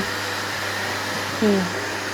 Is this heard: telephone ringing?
no